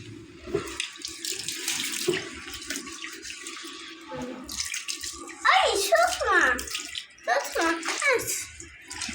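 Water spraying from a hose while washing a motorcycle, coming in gushing bursts that splash against the bike, with children chattering and calling out over and between the sprays.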